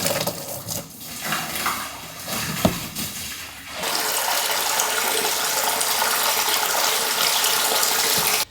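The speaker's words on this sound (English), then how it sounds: "we're going to fill it up with some water today" Water pours into a plastic septic tank being installed for an off-grid tiny house in the woods, first with scattered clunks and splashes, then a loud, steady rushing flow that continues to the end.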